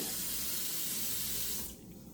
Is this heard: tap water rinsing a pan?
yes